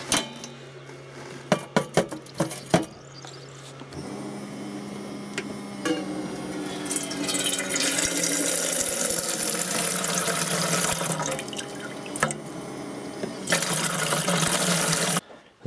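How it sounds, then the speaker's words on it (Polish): A 12 V camping water pump on a solar-powered campsite setup, a few clicks and knocks first, then running with a humming drone as water gushes and splashes steadily into a basin, briefly pausing before flowing again, close by. "A tutaj znajduje się pompa do wody. Opcjonalnie już podłączona, której działanie właśnie zamierzam Wam zademonstrować."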